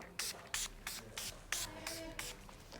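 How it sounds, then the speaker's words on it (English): Several quick spritzes of Urban Decay setting spray onto a face in an even rhythm, about eight short bursts, close and fairly soft. "spritz with some Urban Decay setting spray."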